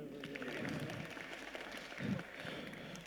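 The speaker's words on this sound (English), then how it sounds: "Everybody clap for Piyush." An audience at a brand storytelling masterclass claps, a steady close patter of many hands that swells briefly near the middle, with some voices mixed in.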